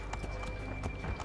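A horse's hooves clip-clop at a steady trot in Assassin's Creed 3 Remastered, a quiet, even rhythm under faint background game ambience with no clear talk.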